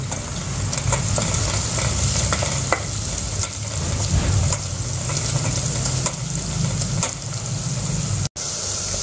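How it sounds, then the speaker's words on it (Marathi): A sprig of curry leaves sizzles and crackles in hot oil in a pan, a steady frying hiss broken by occasional stirring clicks, close and continuous. "आता याच्यामध्ये आपण कढीपत्ता टाकूयात, 1 डाळी कढीपत्ता टाकला आपण त्यात छानपैकी"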